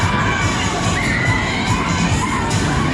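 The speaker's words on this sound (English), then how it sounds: "A lot of screams." Riders on a fast-spinning Superbob fairground ride at a funfair scream and shout together in a loud, continuous crowd roar with bursts of shrieking.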